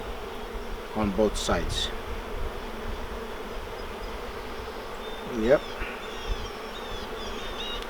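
Honey bees buzz steadily around an open hive during an inspection, their hum forming a constant background with a few louder passes close by, while a person speaks briefly.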